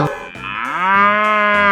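A cartoon cow in a 3D animal sliding game lets out one long, drawn-out moo, rising and then holding steady, loud and clear with no talk over it.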